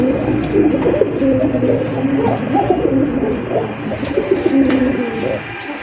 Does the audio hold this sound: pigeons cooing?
yes